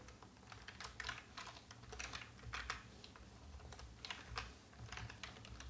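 JavaScript code being typed on a computer keyboard: quick irregular bursts of close key clicks, soft and steady, with no talk.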